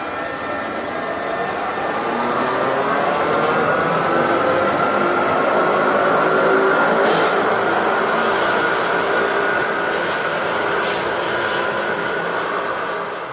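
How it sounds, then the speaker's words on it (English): Lyon Metro MCL80 rubber-tyred metro train running, a loud continuous rolling roar with a rising and falling whine throughout, close and steady with no talk. "And here is an example of what the MCL80 sounds like."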